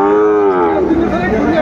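A Sahiwal bull at a cattle market gives a single long, loud, close moo with a deep rising and falling tone, filling the whole moment.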